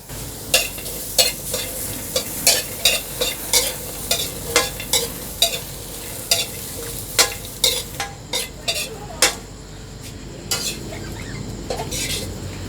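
Garlic and red shallots stir-fried in a pan give a steady sizzle, broken by about twenty sharp, regular scrapes and clinks of a utensil against the pan.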